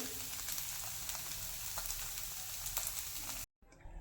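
Amboli rice pancake batter sizzling on a hot pan, a dense crackling hiss with small pops, close and steady, cutting off abruptly near the end before resuming faintly.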